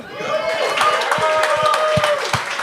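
A TV game show audience claps and cheers steadily throughout, with sharp individual claps popping out over a continuous wash of applause and a few voices calling.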